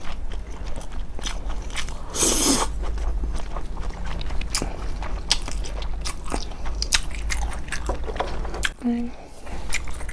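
Cold buckwheat noodles in icy broth and large dumplings are bitten and chewed close to the mic, with wet slurps, crunches and soft smacking sounds repeating steadily, and a brief voice sound near the end.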